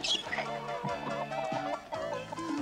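A chicken in a cartoon clucks repeatedly in quick, close bursts, a run of short choppy calls with no talk over them.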